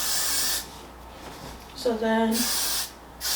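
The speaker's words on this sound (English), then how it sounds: "I'm gonna take my Got To Be spray and I'm just gonna spray it." Got To Be hair spray hisses from a can in bursts while styling short 4c hair for a slicked ponytail, with brief sprays near the start and end around a spoken phrase.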